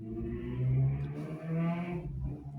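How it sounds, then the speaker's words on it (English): A car engine rumbles and revs in two rising swells with a low steady drone underneath, fairly close, with no one talking. "engine revving."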